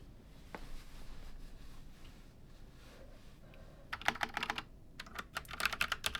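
A mechanical keyboard with red linear switches, a Halloween decoration board, sits quiet at first and then bursts into close, crisp bursts of typing in the final seconds, with no talking.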